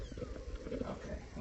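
Kittens meowing during a home livestream showing a litter of five kitties, small repeated cries mixed into steady low household noise, with soft background voices.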